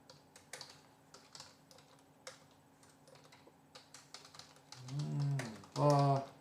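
Rapid keystrokes on a computer keyboard while HTML code is typed, a steady patter of light clicks for several seconds before a voice speaks briefly near the end.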